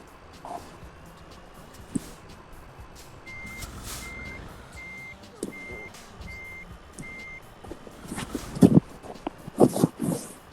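A truck backing into a loading spot gives a steady series of evenly spaced reversing beeps over engine rumble, with louder clunks and thumps near the end.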